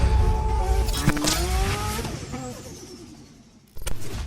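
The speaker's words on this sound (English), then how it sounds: "today, we are going for a mad ride in a 700 plus brake horsepower Nissan S15" A 700 bhp Nissan Silvia S15 drives hard with its engine revving loudly as the tires squeal and skid. Rising and falling engine tones sound close up and alone, then fade briefly before a sudden loud burst.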